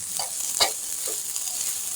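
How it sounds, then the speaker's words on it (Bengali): A spoon stirs potato sandwich filling in a pan, a few soft scraping strokes over a steady sizzling hiss. "2-1 মিনিট ভালোভাবে নেড়ে মিক্স করে নেব।"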